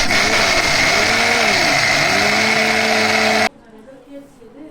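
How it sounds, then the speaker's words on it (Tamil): A mixer grinder running loud and steady as it grinds peanuts and jaggery for a sweet filling, with a whining motor pitch that wavers under load before cutting off abruptly, leaving a quiet room. "இப்போ பூர்ணத்துக்கு கலக்காய் கொட்டையும் வெல்லமும் மிக்சியில் போட்டு எடுத்துக்கலாம்."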